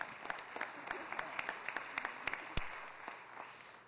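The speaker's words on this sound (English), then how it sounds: "you can clap." Audience applause fills a city council meeting at San Jose City Hall: a dense, steady patter of many hands clapping, with a few sharper claps standing out, at moderate distance in a large room.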